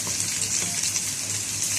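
Small marinated chicken strips fry in a pan with a steady, dense, close sizzle that holds without pause.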